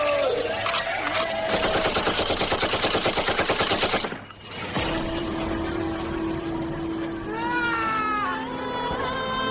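Rapid machine-gun style gunfire sound effect at a school annual day stage play, loud sustained burst of rattling shots for about four seconds, then a brief pause followed by music and a sustained tone with other stage sounds.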